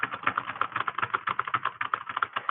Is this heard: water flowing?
no